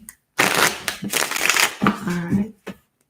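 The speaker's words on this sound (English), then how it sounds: "One more shuffle." Tarot cards riffle and flutter in quick bursts close by, with a few sharp taps between, while a person talks over the shuffling.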